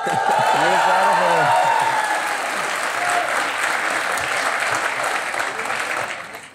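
A studio audience gives cricketer Suresh Raina a long, loud round of applause on a talk show, steady and dense throughout with scattered cheers and whoops, easing slightly toward the end.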